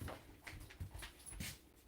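A dog indoors, just back from outside, whimpering faintly with soft breathy panting in a quiet room.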